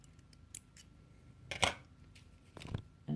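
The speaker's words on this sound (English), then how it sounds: "We can cut that thread off" Scissors snip beading thread during freeform bead weaving, a few faint close crisp cuts and small handling clicks in an otherwise quiet room.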